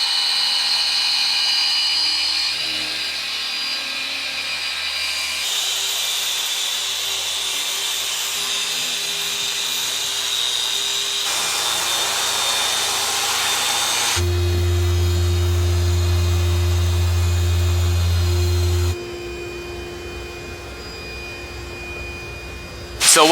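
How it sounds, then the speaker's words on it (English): A power polisher buffs and polishes the paint on a Tesla, a steady loud whine that runs on without a break, its pitch and tone shifting as the pad moves across panels and the speed changes. "are still going to buff and polish every single surface of the Tesla to ensure there are no imperfections"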